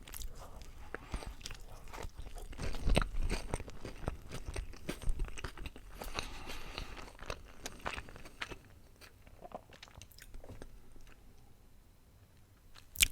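Close, crisp crunching and chewing of a goat cheese croquette from McDonald's, recorded for ASMR, with steady bites and mastication continuing throughout and quieter chewing toward the end.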